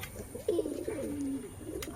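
Soft, low pigeon cooing in a steady murmur inside a pigeon loft, close by, with faint rustling in the background.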